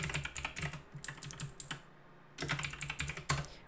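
Rapid typing on a computer keyboard while entering Tailwind CSS class names, two bursts of quick close keystrokes separated by a brief pause, with no voice.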